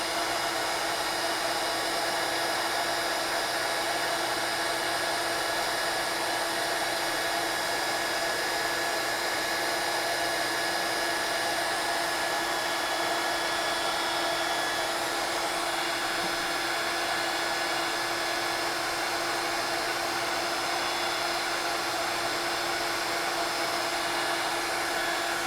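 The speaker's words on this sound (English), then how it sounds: "And all I'm going to do is emboss. So this is going to be loud." A heat embossing gun roars steadily and loudly, a continuous blowing hiss with a faint whine, unbroken from start to finish.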